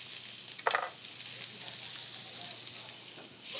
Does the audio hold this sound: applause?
no